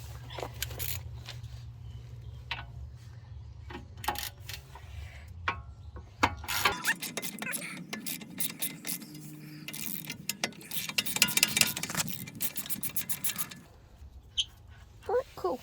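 A socket ratchet loosens a bolt on a Vauxhall Astra GTC VXR, quick clicking pawl bursts at close range mixed with metallic clanks, and someone talks in between.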